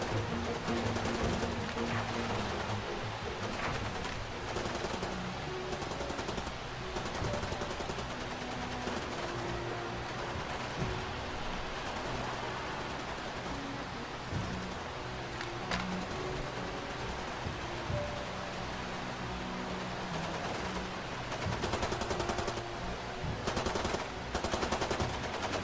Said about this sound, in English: We got a bunch of automatic weapons firing in the distance